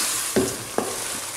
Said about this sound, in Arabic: دابا غادي نخلط وغادي نحاول نضيف اللوبيا